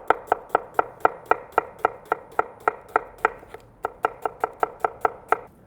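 A knife slices onions pole to pole on a cutting board, giving crisp, evenly spaced chops about four per second, close and clear with a brief pause midway and no talking.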